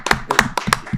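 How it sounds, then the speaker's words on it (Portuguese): Audience applause for an invention, heard as short bursts of hand clapping, a few loud claps coming in clusters close by with no talking. "dar uma salva de palmas para esse invento econômico"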